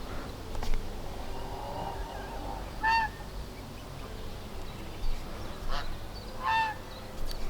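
Two loud goose honks, each a short burst of calls, cut through steady rain and rustling background noise a few seconds apart.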